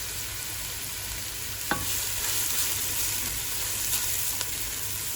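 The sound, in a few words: green chilies added and stirred in a frying pan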